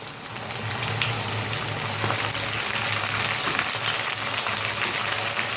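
Masala paste with tomato paste sizzles steadily in hot oil in a home kitchen while potato curry is cooked, a dense, even frying hiss with faint stirring scrapes running throughout, close and fairly loud with no talk.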